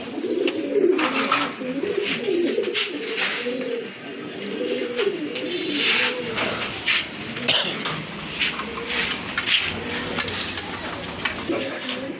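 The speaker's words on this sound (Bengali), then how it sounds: "মাশাল্লাহ আরেক জোড়া কবুতর দেখতে পাচ্ছেন" Foreign-breed pigeons kept in pairs coo repeatedly in soft rolling calls close by, with some clinks and a faint voice in the background.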